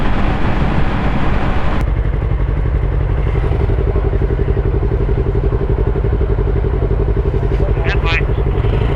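A Yamaha R3 motorcycle engine pulls hard in fourth gear, a loud steady drone with a roaring rise at the start, close up and continuous with wind rush throughout.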